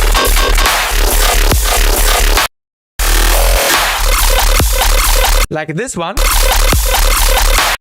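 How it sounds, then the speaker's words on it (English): Loud, gritty, sustained electronic bass with a growling, glitchy, stuttering texture, chopped into rhythmic bursts with abrupt cutouts; a voice speaks briefly during one gap. "chop up this sustainy, growly, glitchy bass"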